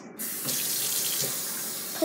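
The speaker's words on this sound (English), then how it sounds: "put some water in my bowl." Water runs from a sink tap into a bowl in a steady, close splashing rush that starts abruptly after a brief pause and continues evenly throughout.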